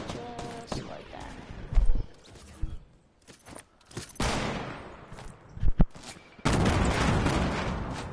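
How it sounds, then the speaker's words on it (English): Gunfire in a PS4 online shooter game: scattered shots and bursts with quiet gaps, then a sustained loud barrage at the end. "I hear the gunshots."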